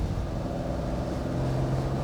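A Lamborghini Espada V12 classic car on a road test, driven at light throttle, gives a steady low engine rumble with a smooth, even drone throughout and no voices.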